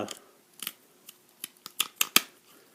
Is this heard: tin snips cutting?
yes